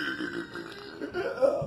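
A long, rumbling burp from a person about to eat a large cake, voiced and fairly loud, swelling near the end over faint room noise.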